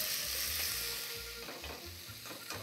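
Chopped vegetables gently frying in a pan for a Basque bacalao a la vizcaína, a soft continuous sizzle with scraping stirring strokes, no talk.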